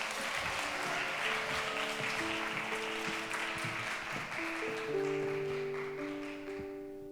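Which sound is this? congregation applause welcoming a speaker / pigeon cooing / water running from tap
congregation applause welcoming a speaker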